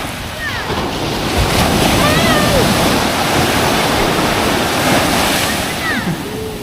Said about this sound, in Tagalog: Hangin eh.